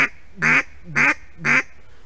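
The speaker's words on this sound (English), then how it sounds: "then you have a varied quack" Three loud, throaty duck quacks from a hand-blown duck call, each a short burst with a descending, varied pitch, spaced evenly about half a second apart with quiet gaps between.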